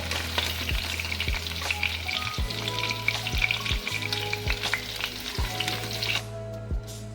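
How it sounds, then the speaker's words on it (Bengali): Pieces of pointed gourd (potol) fry in a pan, a loud, close sizzle broken by a series of sharp spatula clacks and stirring scrapes at irregular intervals, with no talking. "পটলগুলো আমি এভাবে ভেজে নিয়েছি একটু সবুজ করে"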